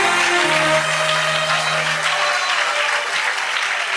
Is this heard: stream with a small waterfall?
no